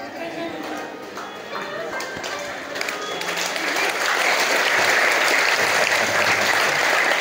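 Audience clapping at a morning motivational gathering in Darussalam, a dense broadband patter that swells and grows louder through the second half, with crowd voices mixed in.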